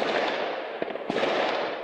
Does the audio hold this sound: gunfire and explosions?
yes